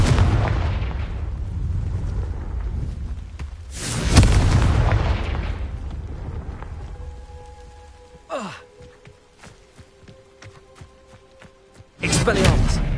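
Confringo blasting spells explode in Hogwarts Legacy gameplay, loud booming bursts near the start and again at the end, with rumbling debris and game sounds in between.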